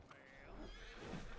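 A horse in Red Dead Redemption 2 gives a faint whinny, quiet and slightly distant, over a steady ambient background with soft hoof movement.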